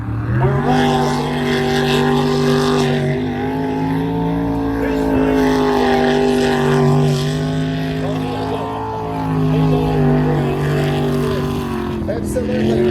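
V8 jetsprint racing boat at a Featherston, New Zealand championship round, a loud sustained engine drone with shifting pitch and revving, heard steadily throughout from a moderate distance.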